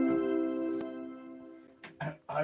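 An electric organ string stop blended with a 16-foot stop sounds a held, layered chord that slowly fades, followed by brief bursts of a voice near the end.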